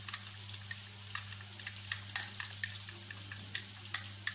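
Chicken stuffing is stirred and mixed in a pan with a soft sizzle, giving light scraping and clicking strokes over a low steady hum, fairly quiet and with no talking.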